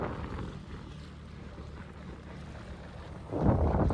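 A new Marketplace skiff cruises across open water on a bright day. Its engine drones low and steady under rushing wind and water, with a louder gust near the end.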